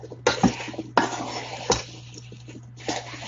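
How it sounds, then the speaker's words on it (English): A utensil stirs sliced apples with lemon juice in a bowl, producing several distinct clanks and scrapes against the dish at irregular intervals over a faint steady hum. "So I'm going to stir all of that up."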